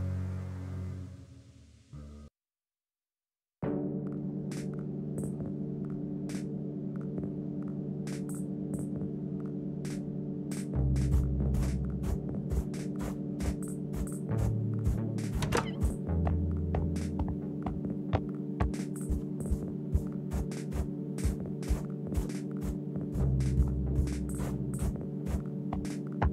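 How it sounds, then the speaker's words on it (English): A vacuum cleaner drones in the video game Serial Cleaners, a steady low throbbing hum that runs for over twenty seconds after a short break, with deeper pulses swelling in and out and sharp clicks sprinkled over it. "Vacuum cleaner."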